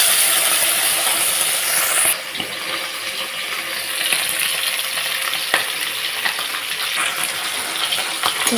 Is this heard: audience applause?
no